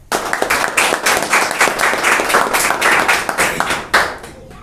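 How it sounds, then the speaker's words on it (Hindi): A church congregation claps together at a Sunday evening service, a dense run of quick, fairly steady handclaps close by and loud, with one sharp burst near the end before a brief fade. "क्यों ना हम परमेश्वर के लिए जोरदार तालियां दें।"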